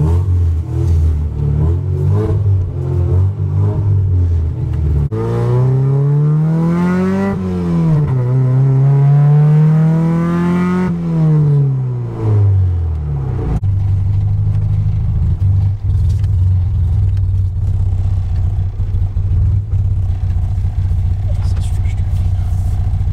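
A Honda Civic EF Si engine revs up through the gears and settles while driving, loud and close, with pitch climbing and dropping under a steady drone.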